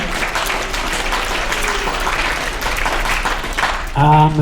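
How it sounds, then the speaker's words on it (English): A school audience at a writers week session applauds the tech crew, producing a sustained, fairly loud wall of clapping. A voice briefly cuts in at the very end. "Give a round of applause to them."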